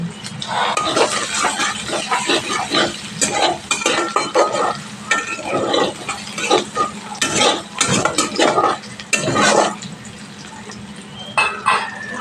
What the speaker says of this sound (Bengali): একটু ব্রাউন কালার করে ভেজে নেব